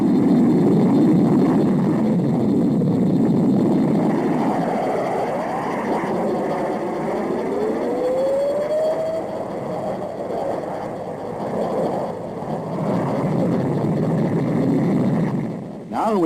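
De Havilland FAW Mk53 Sea Venom jet flying aerobatics over the south coast of New South Wales, a loud continuous engine roar with a rising and falling pitch sweep, heard from the cockpit under a voice talking.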